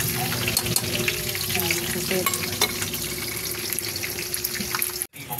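An egg fries a second time in a pan, a steady crackling sizzle filling the scene with stirring scrapes and clatter close by, briefly cutting out near the end.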